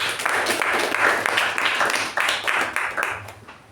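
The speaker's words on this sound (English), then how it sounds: "a thunderous round of applause" A dense, steady round of applause from a crowd at a Toastmasters meeting, loud and sustained with many hands clapping at once.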